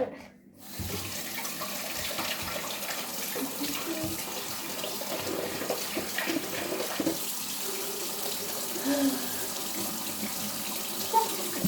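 A kitchen tap running, water gushing steadily into a sink after a brief quiet start, loud and close with small clinks and splashes breaking through.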